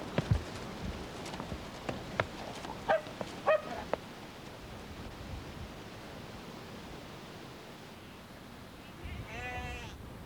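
Distant sheep bleat against an outdoor hiss, with a few short barks early on and a final drawn-out bleat near the end.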